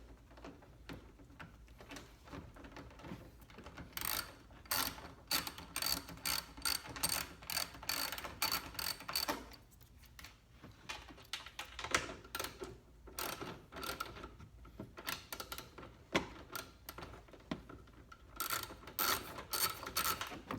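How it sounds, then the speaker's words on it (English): An 8mm socket ratchet removes the taillight nuts on a Nissan Maxima. It gives rapid bursts of close, sharp clicking that stop and start in short runs. "now I'm just gonna take off the back nuts that are holding the tail light on in place. And this is gonna be an 8mm"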